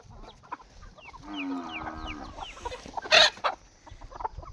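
Chickens cluck and chatter close by, with a drawn-out call in the middle and a sharp burst of noise near the end.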